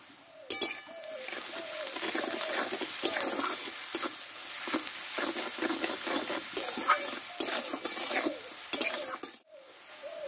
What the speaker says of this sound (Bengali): পেঁয়াজটা একটু আমি হালকা করে একটু ভেজে নেব